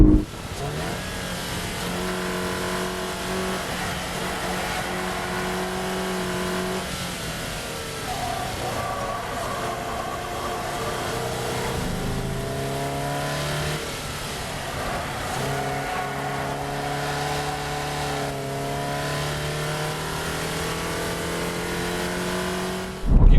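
A Toyota GT86 with a naturally aspirated boxer engine of about 200 horsepower, revving hard around the Istanbul Park F1 circuit, its tone climbing and dropping through repeated gear changes, loud and close throughout.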